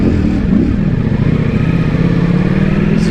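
A Ducati Multistrada V4S Pikes Peak adventure motorcycle rides along, its engine droning loudly and steadily close by, with a brief rise in pitch early on and wind noise underneath.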